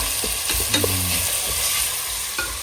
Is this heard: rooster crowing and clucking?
no